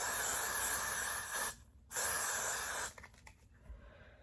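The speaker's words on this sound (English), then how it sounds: "now I'm just gonna spray this all along the hairline" Two long bursts of aerosol hair spray hiss close by along a wig's hairline, separated by a brief pause, followed by faint handling sounds.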